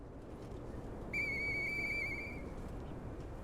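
A whistle is blown in the video game Lies of P: a single clear, sustained pitched tone lasting about a second, rising out of low background rumble and then cutting off.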